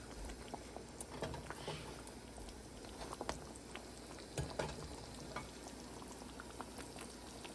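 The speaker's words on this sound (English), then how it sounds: "So now we're cooking the sausage in the broth or the boil." A pot of Cajun shrimp boil broth bubbles steadily with sausage cooking in it, giving a low continuous simmer with scattered pops and splashes, fairly quiet and with no talking.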